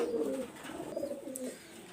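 Pigeons in a loft coo steadily and fairly close, their low throaty calls overlapping in a continuous murmur with no talking.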